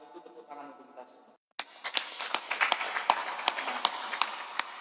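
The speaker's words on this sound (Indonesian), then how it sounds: "Saya sampaikan terima kasih untuk tepuk tangan untuk kita semua." An audience claps at an evening Islamic dhikr and sholawat gathering: after a man's speech and a brief pause, a burst of scattered, uneven hand claps follows in a sharp, sparse rhythm.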